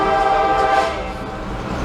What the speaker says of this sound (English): you can hear in the background, we got the train running